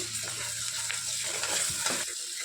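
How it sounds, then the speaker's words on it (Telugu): Onions fry with ginger garlic paste in a pan, a soft steady sizzle broken by a few close scraping stirs, ending abruptly with no voices. "వన్ టేబుల్ స్పూన్ అల్లం వెల్లుల్లి పేస్ట్ యాడ్ చేసుకొని పచ్చివాసన పోయేంత వరకు బాగా ఫ్రై చేసుకోవాలి"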